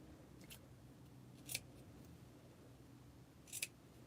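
Scissors snip through a paper star being trimmed, a few crisp, quiet cuts spaced apart against a low steady background hum, two clustered snips near the end.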